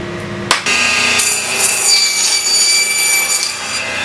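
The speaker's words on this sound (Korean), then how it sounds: "방금 골절기로 단면을 잘라봤고요." A power bone saw whines steadily as it cuts through a beef chuck eye roll, starting with a sharp thump and grinding on for several seconds.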